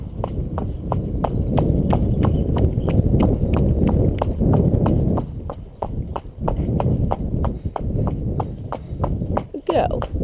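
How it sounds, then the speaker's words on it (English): A cob horse trots on a hard surface, its hooves clip-clopping in a quick, regular rhythm close by, and a voice speaks over the hoofbeats in the wind. "come on Dexter, have a little trot"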